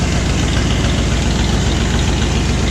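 A Ford Bronco engine idles steadily after a cold start, its loud, rough rumble pouring through straight-pipe dual exhaust with no mufflers, a continuous near drone throughout with no voices.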